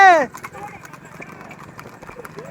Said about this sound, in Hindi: पूरा रोड जाम कर चुके हैं सारे घोड़े।